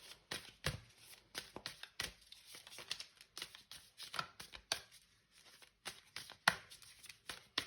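Tarot cards shuffled and riffled by hand at close range, a string of quick papery slaps and flutters in irregular bursts, with no speech.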